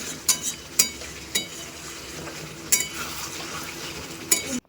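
Chicken kosha is stirred and fried in a pan, a low steady sizzle under sharp intermittent clinks and scrapes of a spoon against the metal, close and moderately quiet with no talking.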